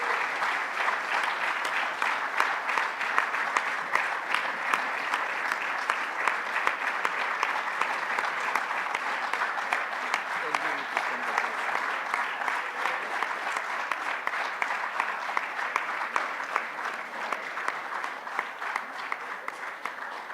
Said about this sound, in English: May I invite you all to give them a round of applause to recognize them